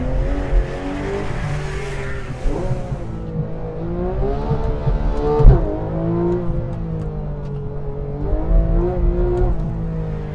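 A 2014 Porsche 911 GT3 engine revs and accelerates hard through several gear changes, a loud rising mechanical howl with brief shifts and a sharp transient midway, close and with no talk.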